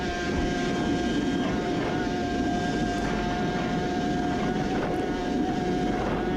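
A Suzuki RG500 two-stroke racing motorcycle held on the throttle, recorded onboard at the Isle of Man in 2018, a loud steady high-pitched engine drone mixed with wind rush, with no pauses and no talk.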